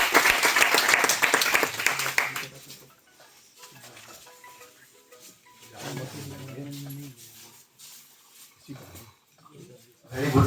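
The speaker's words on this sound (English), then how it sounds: "Kindly support your hands together for a well-deserved round of applause." An audience at a university event claps loudly in a dense burst of applause that fades after a couple of seconds, followed by quieter talk from the room and a brief return of clapping at the end.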